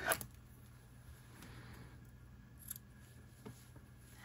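Scissors snip the bulky yarn tail of a crocheted acorn, a few faint, quick cuts spaced over a few seconds against a quiet room.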